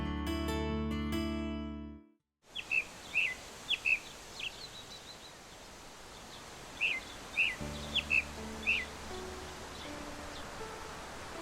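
Kansas birds in spring nesting season chirp in short bright bursts, several clusters of calls over a soft outdoor hiss. A brief musical tone plays at the start before the calls begin.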